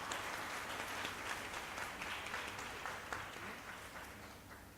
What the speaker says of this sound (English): Please give a round of applause to Bu Francisca